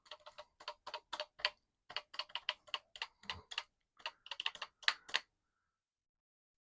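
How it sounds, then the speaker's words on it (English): Keys clatter on an old Commodore PET keyboard in quick bursts of crisp clicks, a steady typing rhythm up close that stops abruptly near the end, leaving silence. "it's an old PET keyboard."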